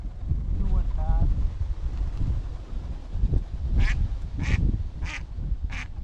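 Mallard ducks give four or five short, evenly spaced quacks near the end, over gusty wind rumble on open water, with a brief call earlier; a hunter's voice is heard softly.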